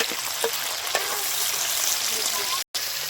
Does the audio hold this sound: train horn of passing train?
no